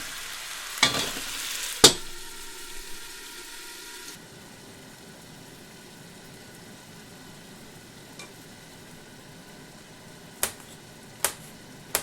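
Chicken karahi fries under a lid in a covered pan with a faint, steady sizzle, broken by a few sharp clatters of the lid or spoon.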